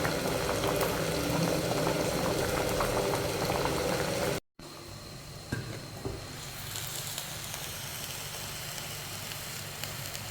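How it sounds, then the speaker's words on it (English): A pot of rice boils in Sri Lanka with a constant bubbling, hissing simmer heard up close and alone for about ten seconds, broken only by a momentary gap partway through. "And cooking the rice."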